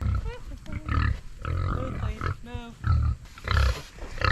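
Pigs digging into a pile of food scraps grunt and snort close by in irregular bursts, with a few higher squeals mixed in between the deeper grunts.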